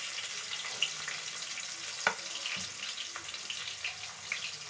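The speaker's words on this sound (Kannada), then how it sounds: "ಒಂದು ಉಳ್ಳಾಗಡ್ಡಿನ ಹಾಕ್ತೀನಿ." Onion goes into a pan and fries with a soft, low sizzle, punctuated by a few sharp clinks and light stirring taps, heard close with no talking.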